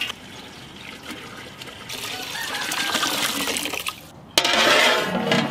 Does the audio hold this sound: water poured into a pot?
yes